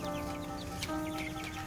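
Broiler chickens in a chicken tractor cluck and chatter continuously, with several birds calling close by in a busy, overlapping flock sound and no voices.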